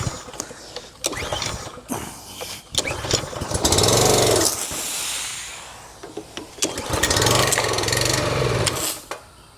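A gas pressure washer engine is pull-started by its recoil cord: short scrapes and rattles, then two louder rasping bursts of the motor catching briefly before dying away, close up with no talking.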